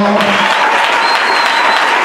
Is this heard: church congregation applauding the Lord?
yes